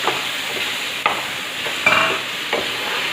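Spinach (palak) paste sautéing with seasoned masala and vegetables in a pan: a steady, close hiss of frying broken by a few sharp spatula scrapes and stirs, with no voices.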